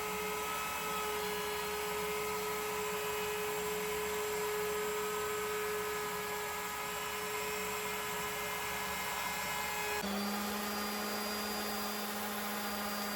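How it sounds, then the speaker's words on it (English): A router table fitted with a 1/2 inch round-over bit shapes the edges of a wooden cutting board, giving a loud, steady high-pitched whine with no talk, the motor pitch dropping to a lower tone near the end. "with the router table, I use a 1/2 inch round over bit to round over all of the edges on the top and the bottom"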